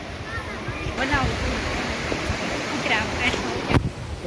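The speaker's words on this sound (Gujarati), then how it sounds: "કેવું પાણી ચાલ્યું જાય છે" Water flowing at a Gautameshwar Mahadev temple site, a steady rushing wash heard close by, with people talking intermittently over it.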